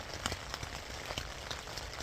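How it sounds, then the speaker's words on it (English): Heavy rain drumming on the fabric of a Naturehike Massif hot tent, a steady patter with scattered sharper drop hits heard from inside, consistent and moderately loud, with no voices. "As you can hear, we've got some pretty consistent heavy rain."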